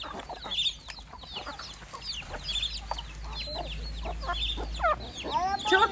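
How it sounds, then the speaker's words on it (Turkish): Chicks and chickens cluck and peep in a busy, overlapping chorus close by while being hand-fed, with scattered short calls and a low steady hum underneath. "Zeynep, civcivlere mi yediriyorsun sen?"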